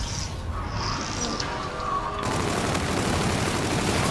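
Dense automatic gunfire in a video game, with faint scattered shots at first and then a loud, continuous burst of rapid fire.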